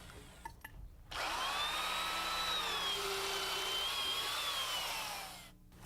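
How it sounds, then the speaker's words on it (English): Heavy-duty drill motor with a sharp auger bit boring holes in a wooden sill, a sustained whining grind of about four seconds with shifting pitch, starting and stopping abruptly. "We use a heavy-duty drill motor and a good sharp auger bit to drill our holes."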